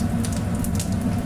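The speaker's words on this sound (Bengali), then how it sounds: "তাই কাঁকড়ার দাঁড়াগুলোকে ভেজে নিলাম।" Crab claws frying in hot oil with cumin seeds give a dense, steady sizzle with fine crackling pops throughout, close and fairly loud.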